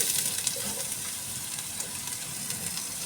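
Chopped onions hitting hot oil with cumin seeds in a pan, a steady broadband sizzle and crackle held throughout at moderate loudness, with faint scraping touches and no talking.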